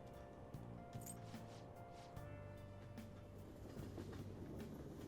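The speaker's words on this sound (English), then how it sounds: "It's a subway scene." Subway train in the video game Persona 5, a steady rumbling ride with low rhythmic clatter and a faint background hum running throughout, no talking.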